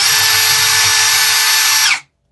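A Keelat KCD011 cordless drill runs steadily at speed 1, a close, loud, even high whine lasting about two seconds before cutting off abruptly into silence.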